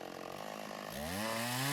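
A chainsaw revs up from a low idle into a loud, rising roar whose pitch climbs steadily over a couple of seconds, close and alone with no talk.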